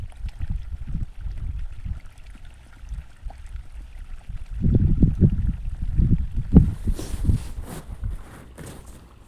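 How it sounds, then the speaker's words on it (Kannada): Rinse water from a mixer jar pours into a pot of sprouted-bean sambar, a splashing gush that swells midway and trails into dribbles, with earlier intermittent sloshing. "ಮಿಕ್ಸಿ ಜಾರ್ ಏನಿತ್ತು ಅದನ್ನು ಕೂಡ ಅದನ್ನು ತೊಳೆದು ಅದು ಅದರ ನೀರು ಸಮೇತ ಹಾಕೋತಾ ಇದ್ದೀನಿ"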